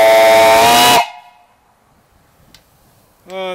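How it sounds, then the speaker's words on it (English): A new copper-tubed steam boiler's loud, shrill whistle blasts for about a second, then cuts off into quiet hiss; a voice starts briefly at the end. "Got a great whistle on it."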